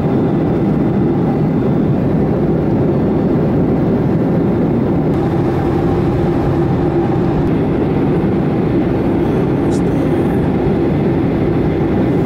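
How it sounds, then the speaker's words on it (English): A passenger jet taking off, heard from inside the cabin as a loud, steady engine roar with a broad rushing drone that holds for the whole span and never pauses. "On the plane, take off."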